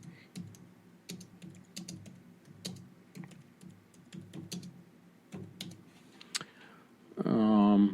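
Typing on a computer keyboard with faulty, unresponsive keys: irregular close clicks and clacks in bursts, ending with a louder, different sound at the end.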